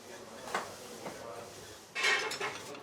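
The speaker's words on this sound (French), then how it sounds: "C'est les couverts et ça casse pas" Cutlery clatters and clinks in a restaurant dishwashing station near Mont Blanc, with a few sharp knocks early on and a louder burst of metallic rattling toward the end, close by.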